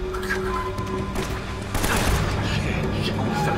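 Gunfire in the video game Uncharted: Drake's Fortune Remastered, a busy, moderately loud burst of shots and impacts that swells near the end, heard alone.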